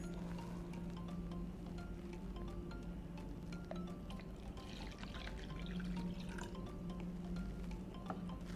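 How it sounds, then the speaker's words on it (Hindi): Liquid poured from a 250 ml beaker into a 500 ml beaker, a steady soft trickle and splash running throughout at low level with no talking. "सबसे पहले हम 250 मिलीलीटर बीकर को लेंगे और इसमें डालेंगे।"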